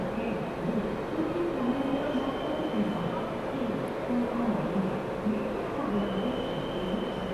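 The Bihar Sampark Kranti Express departs a station with a continuous heavy rumble, overlaid by wavering wheel squeals and grinding tones as the coaches roll out.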